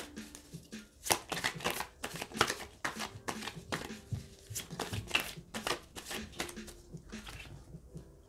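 Angel cards shuffled for a tarot reading, a quick run of crisp riffling flutters and soft slaps, close and fairly quiet, repeating irregularly throughout.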